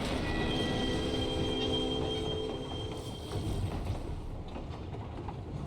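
A train in the video game Final Fantasy XIV rumbles steadily along the rails, with a continuous low clatter, creaking and faint wheel squeal, fairly loud and close with no voices over it.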